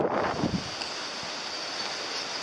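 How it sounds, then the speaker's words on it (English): A stream roars along a wooded cove path in West Cornwall, a steady broadband rushing wash heard in the background with some wind buffeting at the start. "You can hear the stream roaring in the background"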